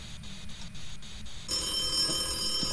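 Telephone ringing inside the ghost-hunting video game Phasmophobia, a steady electronic ring that starts halfway through and continues clearly to the end over a low background hum.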